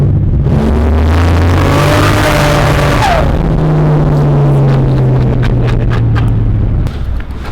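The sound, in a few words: Holden VL Turbo drag car engine accelerating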